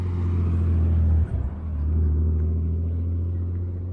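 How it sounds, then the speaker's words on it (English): A Nissan Skyline on a New Zealand road gives a steady, deep engine rumble close by, dipping briefly before resuming its even low drone, with no talking. "recording videos of Nissan Skylines driving around as they do"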